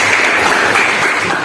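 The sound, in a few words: applause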